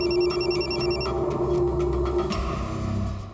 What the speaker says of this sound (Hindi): सर, मुझे अभी कांता का फोन आया था।